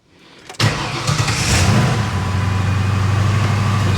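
A Ford Crown Victoria engine cranks briefly, catches with a sudden loud burst, then settles into a steady, rumbling idle, heard up close with no talking.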